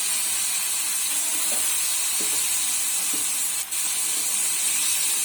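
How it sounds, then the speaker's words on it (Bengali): Spinach being added to a pan for rohu fish head curry with already-fried vegetables, giving a steady broadband sizzle and hiss throughout, with a few faint knocks of stirring and no talk. "পালং শাকটা দিয়ে দিচ্ছি।"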